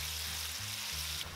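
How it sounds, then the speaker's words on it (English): Oil sizzles and crackles steadily as chicken deep-fries for a second time, a dense, even hiss with a low hum underneath and no voices. "Now we're gonna return the chicken and let it fry for another 2 minutes until golden brown"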